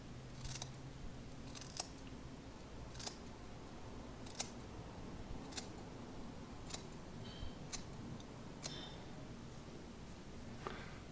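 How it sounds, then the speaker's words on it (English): Scissors trimming beard hair, giving soft, sharp snips spaced about a second apart, close but quiet over a low background hum. "I use the scissor to make the line that I'm going to cut."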